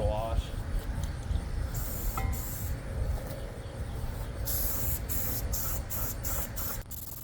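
A spray can with an adjustable tip on its strongest setting blasts primer in repeated hissing bursts, loud and close, with a breezy outdoor backdrop and a voice talking at times.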